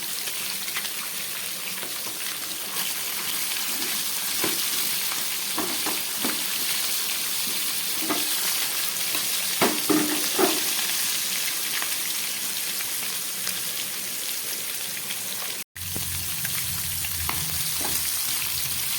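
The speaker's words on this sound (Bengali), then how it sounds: "আলু ভাজার মধ্যে একটু সামান্য নুন দিয়ে দিলাম" Potatoes frying in a pan with salt and turmeric, a continuous rain-like crackling sizzle with occasional stirring scrapes and taps, steady and close for the whole stretch, a brief dropout near the end, no speech.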